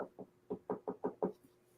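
Seven muffled knocks against a wall in a quick, fairly even rhythm, close and moderately loud, followed by a brief quiet tail with no talk.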